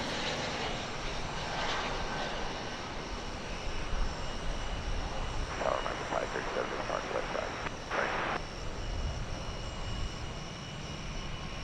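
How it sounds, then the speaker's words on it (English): An American Airlines jet flies over DFW Airport, a steady broad engine roar holding throughout at moderate distance, with faint background sounds over the constant rumble. "Yonder I see a flight from Salt Lake City, Utah. It's American Airlines flight"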